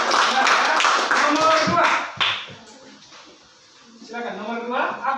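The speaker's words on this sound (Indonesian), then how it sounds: "Kita beri aplaus buat" Applause for a group presentation in a classroom, a burst of many hands clapping for about two seconds that fades out, followed by a person talking.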